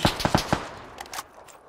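Rapid gunfire in PUBG, a quick burst of four or five sharp shots fired from a hillside, loud and close at first, then a couple of fainter distant reports trailing off.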